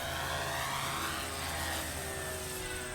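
A Dynam RC model warplane flies overhead at half throttle, its electric motor and propeller giving a steady, even buzzing drone throughout with no pauses.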